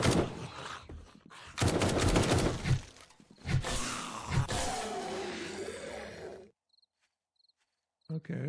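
Gunfire from a character shooting in the video game 7 Days to Die comes in loud repeated bursts and rattling volleys over several seconds, ending abruptly in near silence broken by faint high chirps.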